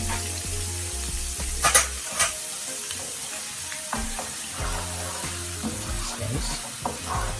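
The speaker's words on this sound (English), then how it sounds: "just want to slightly cook your garlic" Six garlic cloves sizzle in a pan while being cooked for honey garlic salmon, giving a steady frying hiss with a few clinks and scrapes of stirring, fairly close, with no voices.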